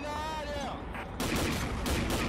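Gunfire in the online shooter Combat Arms, played on a lagging connection: a string of sharp broadband shots with a rapid, uneven rhythm following a brief moment of speech, loud and close throughout.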